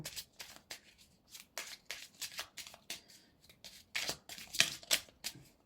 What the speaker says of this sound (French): je vais vous tirer une petite carte. Une petite carte de conseil des guides.